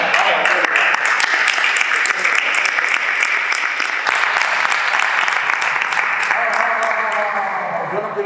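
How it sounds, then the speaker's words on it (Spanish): Loud, sustained applause from a crowd at a presentation event in Jerez de los Caballeros, a dense continuous clatter of many hands with voices mixed underneath throughout. "Yo no quiero aplausos"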